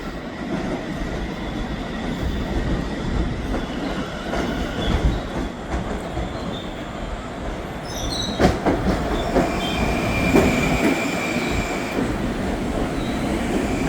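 A train pulls in on track 3 at a station bound for Grand Central, loud and close with a rumbling, rolling roar of wagons, some metallic wheel squeal and clatter toward the end, and no talk.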